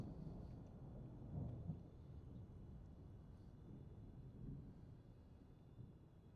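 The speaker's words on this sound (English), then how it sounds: "Wait, have they not fixed the thunder yet?" Thunder rumbles in Microsoft Flight Simulator as a continuous low, distant roll with a couple of slightly stronger swells, quiet overall and without voices.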